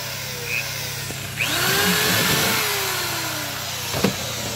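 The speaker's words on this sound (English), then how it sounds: "The jigsaw. You can cut your circle out." Jigsaw cutting a circle in a homemade portable air conditioner build, a brief buzzing power-tool whine that starts abruptly and runs for a few seconds with sharp knocks near the end.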